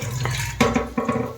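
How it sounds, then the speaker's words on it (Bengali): An Aquaguard purifier tap runs water at close range in a home kitchen, a steady splashing stream into a vessel, loud and continuous for a brief moment. "এই যে অ্যাকোয়াগার্ড থেকে আমি রান্নার জলটা নিই।"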